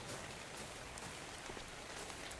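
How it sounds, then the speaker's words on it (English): Steady rain falling in the survival video game ARK, a dense, continuous hiss of drops pattering on surfaces, close and even in loudness throughout with no talking. "No, and it's raining."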